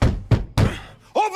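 Heavy pounding on a door in Assassin's Creed Odyssey, three loud thuds in quick succession, each with a short booming decay, followed by a voice starting to speak.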